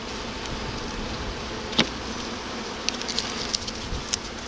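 Honey bees buzz in a dense, steady hum around brood combs pulled from a hive, close and continuous, with a few sharp clicks and knocks from handling the frames.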